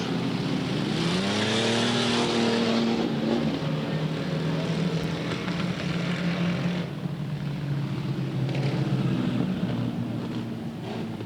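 Super sedan race cars roar around Yandina Speedway dirt oval, a loud sustained engine drone with pitch sweeping as cars pass, some nearer and some farther, under crowd ambience.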